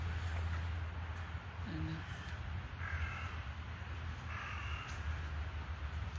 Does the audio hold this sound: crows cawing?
yes